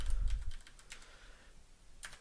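Typing on a computer keyboard during a voice assistant software demonstration, with a dense burst of clicking keystrokes, a short pause, then a few more taps. The keys sound close and fairly quiet, with no talking.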